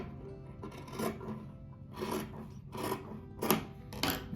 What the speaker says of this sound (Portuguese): Daí essa parte aqui eu vou cortar fora.